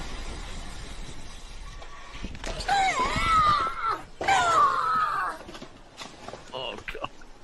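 A woman screams in a crash video played back, high strained cries rising over muffled background noise and talk, followed by further shouting voices.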